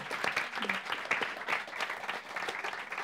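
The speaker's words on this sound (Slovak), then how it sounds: "To si myslím, že si zaslúži potlesk." An audience applauds a guest at a live show with soft, continuous clapping. It is fairly faint and even, with no speech over it.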